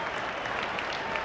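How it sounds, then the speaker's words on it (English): Brief, steady applause from a cricket crowd at Brisbane after Sunil Gavaskar hits a boundary in a 1986 India vs New Zealand match, many hands clapping at a distance. "Well, the crowd really loving this."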